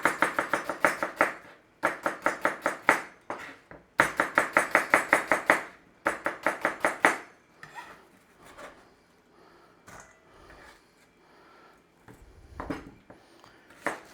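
Onions chopped on a board for onion gravy, fast bursts of sharp knife taps in quick rhythmic runs separated by short pauses, then quieter scattered knocks and handling.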